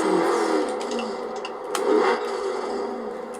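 A V10 biturbo car engine in Forza Horizon 4 roars steadily while drifting, a sustained loud mid-range drone with a brief swell near the middle; a voice talks faintly underneath.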